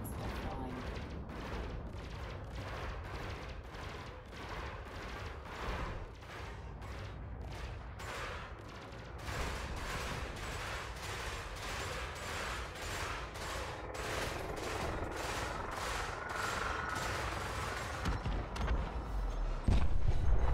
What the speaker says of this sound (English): Now let's get to gimbaled burst lasers.